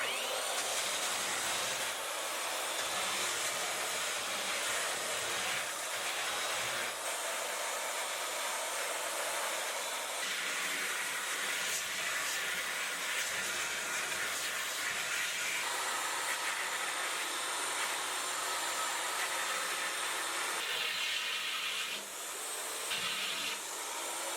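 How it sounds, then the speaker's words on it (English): Power sander running steadily on sharp desk edges during a minimalist desk build, a continuous loud whirring hiss with rubbing variations, no talk. "take the sander and run over it and kind of give them a nicer, less cutting edge"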